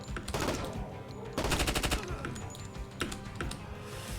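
Machine gun fire in the tactical shooter game Door Kickers 2, with loud rapid bursts of shots, a dense volley around the middle and scattered single cracks, close and punchy.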